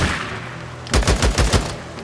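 A short burst of gunfire in the video game Days Gone: about five quick, loud shots in a rapid cluster after a moment of quieter background.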